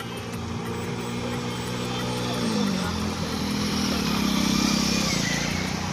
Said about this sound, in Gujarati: જો તે બાઈક આવ્યું ત્યાં પણ એક ખાડો છે.